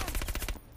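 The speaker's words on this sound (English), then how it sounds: "a lot of shooting" Quick automatic shooting in the fighting game Mortal Kombat, a short fast rattle of shots for about half a second before cutting off, fairly quiet.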